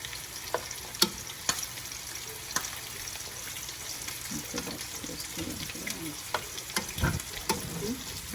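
Jumbo shrimp and other seafood frying in a pan as pieces get turned over, a constant sizzle broken by sharp clicks and scrapes of a utensil, with a soft voice murmuring underneath.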